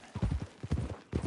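Horse hooves clip-clop in Red Dead Redemption 2 in quick, close, rhythmic bursts of footfalls with a short pause, alone without talking.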